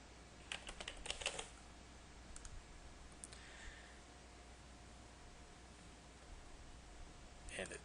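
Quick bursts of key clicks as a password is typed on a computer keyboard, clustered near the start and again at the end, quiet with long pauses of faint hiss between.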